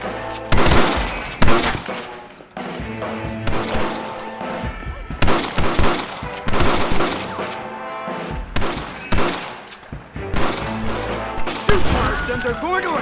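Rapid bursts of gunfire in Red Dead Redemption crack out in loud, irregular volleys during a bank shootout, layered with crashes and swelling orchestral music.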